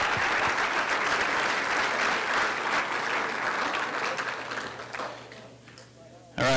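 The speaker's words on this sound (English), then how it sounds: "Let's give him one more round of applause" Audience applause at a college student achievement awards ceremony, a dense sustained round of clapping that thins out and fades near the end.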